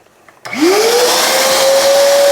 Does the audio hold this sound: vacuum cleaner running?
yes